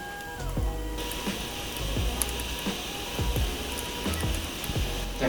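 Rice cooking in a lidded pot on a stovetop gives off scattered soft pops and crackles over a steady low hiss and rumble of heat, the pops irregular and close.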